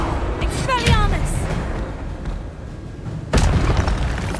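In the Hogwarts Legacy video game, the Expelliarmus disarming spell lands with a deep, loud boom and whooshing burst, then a second heavy impact, mixed with a brief voice.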